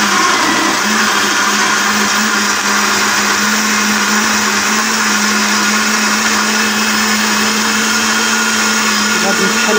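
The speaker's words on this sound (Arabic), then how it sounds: "دابا غادي نطحن هادو حتى هما" An electric blender-grinder whirs loudly and steadily for the whole stretch, grinding ingredients for Moroccan harira, with a constant motor drone and no voices.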